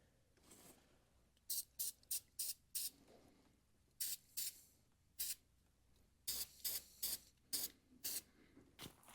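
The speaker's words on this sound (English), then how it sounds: "let's go ahead and spray some of the protectant on the terminals itself" Repeated short bursts of aerosol protectant spray on car battery terminals, some single and some in quick pairs, close up with quiet pauses in between.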